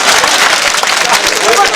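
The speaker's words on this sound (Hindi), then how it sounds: "अच्छा, ताली बजाइए" Audience applause at the 2008 Mahmoodabad All India Mushaira, an Urdu poetry gathering: a dense, loud, steady wash of many hands clapping together, filling the hall without pause.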